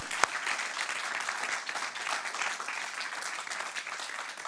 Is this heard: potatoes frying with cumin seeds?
no